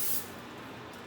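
A short burst of cooking oil spray hisses onto a hot pan at the start, then fades into a quiet background hum.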